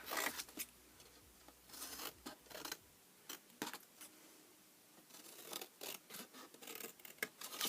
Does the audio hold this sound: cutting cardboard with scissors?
yes